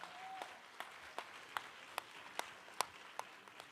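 An audience applauds after a live performance, faint and sparse, with a steady series of individual claps sounding at a distance.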